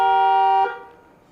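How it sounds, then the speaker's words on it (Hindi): Horn of a Mahindra XUV700 AX7 SUV sounds one steady, loud, bright honk lasting about half a second, then cuts off and rings out briefly. "हॉर्न की साउंड आप सुन सकते हैं"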